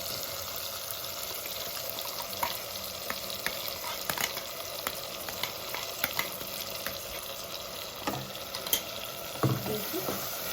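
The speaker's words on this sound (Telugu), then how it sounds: "మంచిగా అదంతా ఉడికేంత వరకు అలా కలుపుకోవాలి." Mint pudina pulao sizzles steadily in a pan while a spoon stirs and scrapes through it, the frying hiss continuous and close with irregular stirring knocks.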